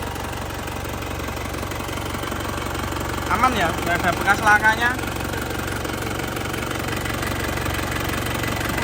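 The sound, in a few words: car engine idling, 2006 New Touring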